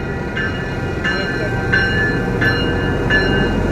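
The TriMet White Elephant rail vehicle pulls into a Portland stop on its northbound run, a rumbling rail approach with repeated rhythmic clanks or chimes about every 0.7 seconds, heard close with people talking.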